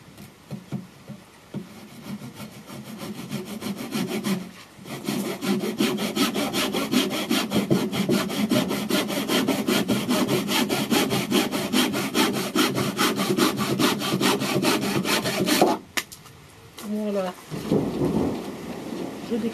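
Hand saw cutting through a length of bamboo just before a node, steady rapid back-and-forth rasping strokes, close and loud, with a brief pause mid-way and a stop near the end followed by a few scraping sounds.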